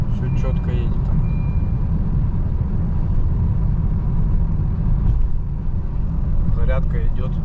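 Honda Vezel car driving smoothly, a steady low road and engine rumble throughout with a faint whine, while someone talks over it inside the cabin.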